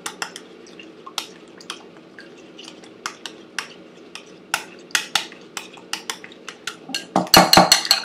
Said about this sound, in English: and then mix it with the chopstick.